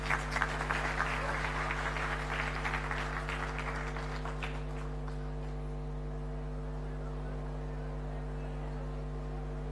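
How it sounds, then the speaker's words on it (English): An audience applauds at the inauguration of the IIT Madras Zanzibar campus: a dense clatter of clapping for about four seconds that thins out and fades, over a constant low electrical hum. "Another round of applause,"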